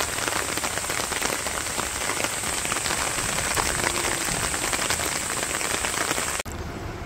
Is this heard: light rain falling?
yes